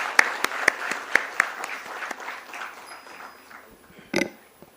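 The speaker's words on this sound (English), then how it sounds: "That's a cue for a huge round of applause" Audience applause at a stock-exchange listing ceremony, a smattering of sharp claps over a murmuring hall that thins out, ending with one brief louder burst.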